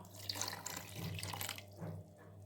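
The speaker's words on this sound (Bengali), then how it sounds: "এবার আমি এর মধ্যে এক কাপের মতন জল দিয়ে দেব" Water is poured from a cup into a mixer grinder jar during preparation of a mango panna ice cream paste, a steady splashing pour lasting a couple of seconds over a low constant hum.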